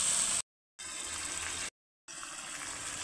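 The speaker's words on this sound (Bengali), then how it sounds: "এখানে কিন্তু আমি দিয়ে দিচ্ছি ঝোলে উষ্ণ উষ্ণ গরম জল" Hot water is poured into the simmering broth of a tengra fish curry with soft-cooked potatoes, a faint, steady watery rush broken by two short silent gaps.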